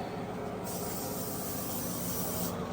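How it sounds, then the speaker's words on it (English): Lysol disinfectant spray can sprayed onto a toilet during bathroom cleaning, a steady continuous hiss lasting a couple of seconds with no talking. "grab a can of Lysol. So I hit the toilet"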